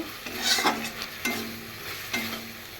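Curry stir-fried in a pan, three or four distinct scraping strokes of a spoon against metal with a soft sizzle between them, close up and with no talking.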